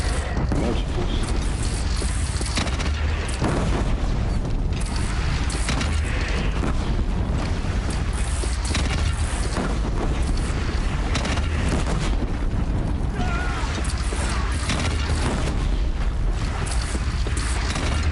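Cannon fire during a battle against a bandit clan in the Horizon video game: a dense, continuous barrage of heavy booms and rumbling blasts, loud and close, running throughout with other game action underneath.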